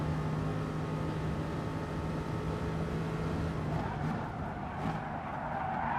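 A race car engine in GT Sport drones steadily at high revs, then its pitch drops sharply as it shifts up, with faint tyre noise beneath.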